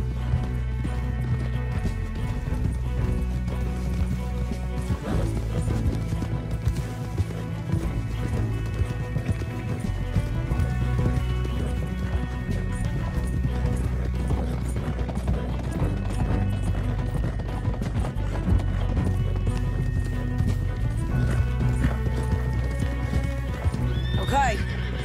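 Horses gallop with steady clip-clop hoofbeats and occasional whinnies in the video game Red Dead Redemption 2, loud and continuous, with voices and game music mixed in.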